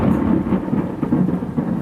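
A steady thunderstorm with rain: dense, even rainfall hiss over a low continuous rumble of thunder, loud and close, with no voices.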